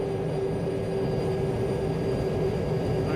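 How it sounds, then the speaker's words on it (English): A Tupolev Tu-134 jet engine in the X-Plane 12 flight simulator gives a loud, steady roar with a constant hum and a faint high whine, heard alone and close. "The noise on this engine,"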